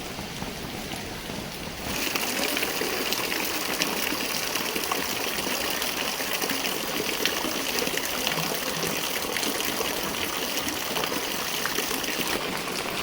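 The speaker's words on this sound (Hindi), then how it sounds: "ये देख सकते हैं बारिश चल रही है" Rain pours in the hills, with water falling from a roof into a bucket below, a dense steady hiss and trickle that swells louder after about two seconds and stays constant with no talking.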